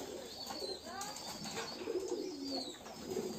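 Pigeons at a pigeon farm coo softly in low, rolling calls while bathing in water, with occasional wing flaps and faint higher chirps over a steady background.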